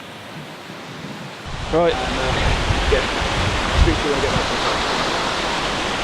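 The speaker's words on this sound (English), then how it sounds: "It's absolutely pouring down." Heavy rain pours down at Carding Mill Valley in Shropshire, a dense, loud, continuous hiss that swells in after a quieter start, with a brief spoken word over it.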